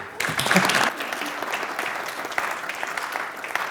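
Applause from an audience at an entrepreneurship pitch competition, swelling quickly then settling into a steady moderate clapping that continues and thins slightly, with faint murmuring mixed in.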